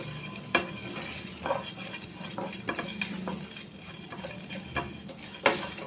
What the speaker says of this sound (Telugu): జీలకర్ర ఇవన్నీ కూడా తొందరగా ఫ్రై అయిపోతాయి కాబట్టి సిమ్లో పెట్టుకొని ఫ్రై చేసుకోండి